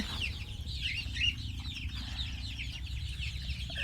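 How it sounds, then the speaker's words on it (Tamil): Chickens with a batch of ten-day-old chicks inside a farm shed, a steady chorus of overlapping cheeps and soft clucks filling the space at close range, with no talking. "இப்போ இது ஒரு 35 குஞ்சு இருக்குது. இது பார்த்திங்கன்னா 10 நாள் குஞ்சு"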